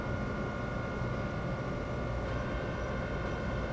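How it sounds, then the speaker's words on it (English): Amtrak train rolling slowly through a train wash in Train Sim World, a steady, dense rumble with constant broadband hiss and mechanical hum, unbroken and fairly close throughout. "We're taking it easy through the train wash."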